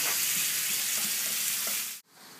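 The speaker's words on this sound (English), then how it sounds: "You want it to always have that sizzle when you're putting it down." Steak sizzles loudly and steadily in a hot pan for about two seconds, then breaks off abruptly into a quieter hiss.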